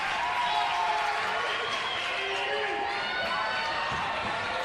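A volleyball crowd in a partly filled Flagler Gym roars and cheers at match point, a steady, broad wash of voices with whistles and shouts under it, sustained throughout without pause.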